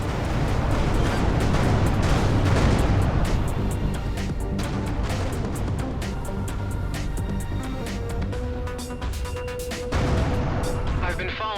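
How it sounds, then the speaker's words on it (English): A space-combat explosion in the game Everspace 2 fills the clip with a dense, continuous roar and rumble, broken by sharp crashing bursts and a tonal hum running underneath. "Vacate this area at once. Explosion imminent."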